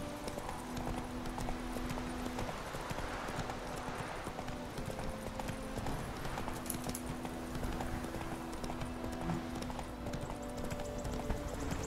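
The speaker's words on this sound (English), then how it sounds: "So my horse is named Roach" Steady rhythmic clip-clop of a horse's hooves trotting in the video game The Witcher 3: Wild Hunt, continuous throughout over a low background drone.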